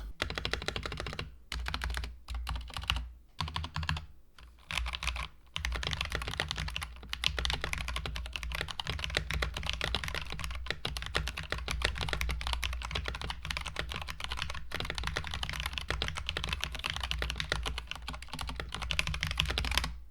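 Typing on a Dreamkey gaming keyboard, a dense, steady stream of crisp key clacks in quick runs with a few brief pauses early on, close and alone.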